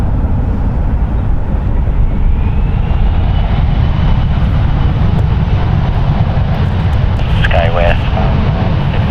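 An Embraer airliner of SkyWest Airlines takes off from runway 1 right at San Francisco International Airport. Its engines give a steady, loud, broadband roar throughout, with radio voices over it.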